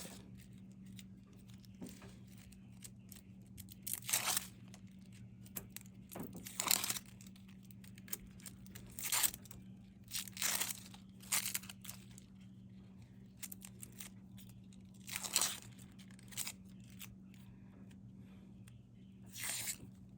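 Dry papery skin is peeled off a medium white onion at close range, giving scattered crinkling, tearing crackles in irregular bursts over a low steady hum.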